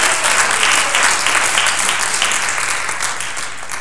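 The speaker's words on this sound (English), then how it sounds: "Give Jesus a clap offering, would you?" A church congregation applauds warmly, dense clapping that holds steady and then gradually fades.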